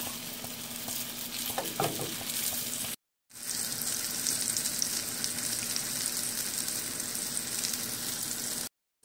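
Plantains fry in butter in a pan, a continuous close sizzle with a brief clatter early on and two short cuts to silence, no talking.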